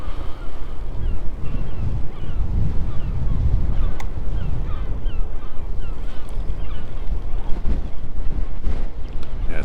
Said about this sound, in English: It's really strong, the wind.